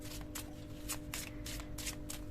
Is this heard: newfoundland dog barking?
no